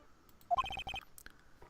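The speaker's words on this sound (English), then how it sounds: "What kind of ringtone is that?" A cell phone ringtone from the Phoenix Wright: Trials & Tribulations video game: a quick rising chirp, then a rapid burst of bright, buzzy electronic pulses lasting about half a second, clear and alone over a quiet background.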